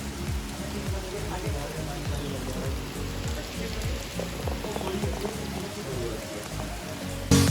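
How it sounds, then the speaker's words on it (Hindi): Heavy rain falls steadily during a trip near Dehradun and Mussoorie, a continuous loud hiss and patter of drops on surfaces filling the scene, with faint voices in the background. "बारिश हो रही है दबा के"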